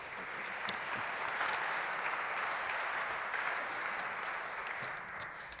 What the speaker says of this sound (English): Please give my panel a big warm applause.